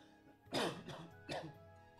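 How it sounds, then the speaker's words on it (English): Two harsh, close coughs from one person, spaced under a second apart against a quiet background. "Sorry for my coughing."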